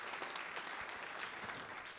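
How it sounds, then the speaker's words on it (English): Audience applause at a talk on nonviolence, a roomful of people clapping steadily and evenly, moderately close, with no voices over it. "let's have a round of applause for all their hard work to bring me here"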